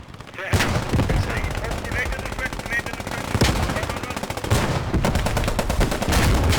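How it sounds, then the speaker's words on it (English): Sustained machine gun fire from a trench battle in the World War II shooter Post Scriptum, loud and continuous rapid bursts with heavier shots mixed in and occasional voices under the gunfire. "Keep up that machine gun."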